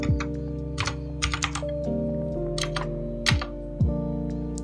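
Steady typing on a computer keyboard, close and distinct key clicks in quick uneven bursts, while building an HTML table; no one speaks and a constant low hum runs underneath.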